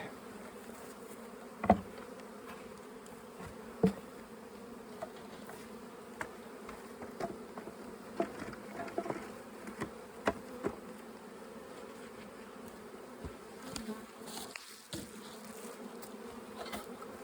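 A continuous hum of honey bees around a small salvage hive being merged, with occasional individual bees buzzing past closer to the listener.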